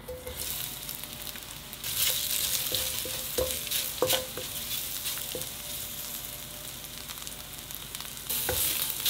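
Potatoes coated in rice flour sizzle in sesame oil in a pan, a steady hiss broken by scattered clicks and scrapes of stirring, close and unaccompanied by voices.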